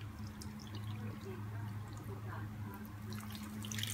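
Fresh lime juice pours and drips over skewer meat being marinated for a barbecue, with faint, soft trickling and dripping against a quiet kitchen background.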